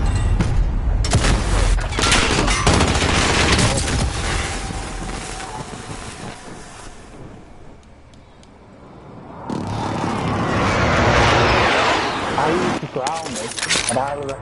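AK-47 gunfire in a video game, loud dense bursts of automatic shots at the start and again near the end, with a player talking excitedly over the fire.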